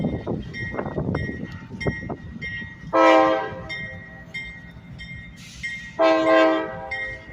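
A switcher locomotive's horn blasts twice, each a loud sustained honk about a second long, over the rumble and clatter of a passing train at a rail yard.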